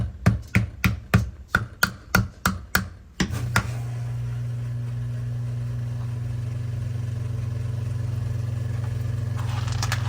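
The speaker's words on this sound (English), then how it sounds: "you're going to tap the motor. Not on the plastic too much, but basically on the housing" A screwdriver raps the metal motor housing of a Whirlpool dishwasher about ten times in a quick, even series of sharp knocks, then the motor starts and settles into a steady hum that carries on to the end.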